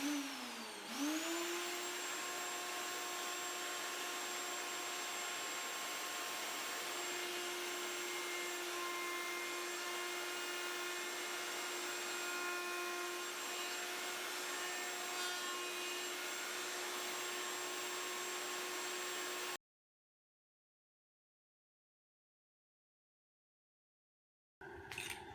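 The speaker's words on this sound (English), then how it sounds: "now I'm going to use this quarter round tool on my router table to break that edge on both sides" A router table with a quarter round bit spins up with a rising whine, then holds a loud, steady high-pitched tone while breaking a wood edge, before cutting off into silence.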